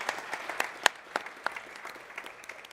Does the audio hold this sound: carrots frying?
no